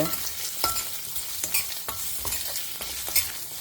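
Colocasia roasting in oil in a pan for Karnataka-style bisibele bath, a steady close sizzle broken by periodic scraping stirs of a spatula, with no voices.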